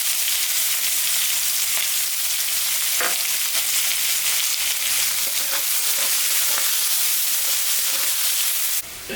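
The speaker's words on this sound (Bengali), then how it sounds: "এখন আমি পেঁয়াজটা ভাজে নেব।" Onion frying in a pan just after a tempering of black cumin and dried chili, giving a loud, steady sizzle and crackle that runs unbroken for several seconds before cutting off abruptly at the end.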